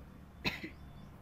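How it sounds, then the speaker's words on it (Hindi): One short, sharp cough from a woman teaching a competitive-exam class, close to the microphone, standing alone against a quiet room hum. "आज तो खांसी भाई ज्यादा है"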